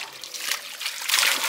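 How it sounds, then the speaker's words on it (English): Fresh mountain water piped across salt water in a Solomon Islands village flows in a steady hissing trickle, close and continuous, rising slightly toward the end. "this one, fresh water from the mountain"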